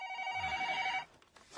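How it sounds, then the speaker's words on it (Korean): A home telephone rings at dawn with one sustained electronic bell tone, loud and close, cutting off abruptly after about a second into quiet room noise. "이른 새벽, 청와대 문희갑 경제수석의 집으로 한 통의 전화가 걸려왔다"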